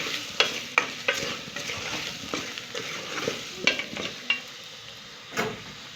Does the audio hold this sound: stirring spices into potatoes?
yes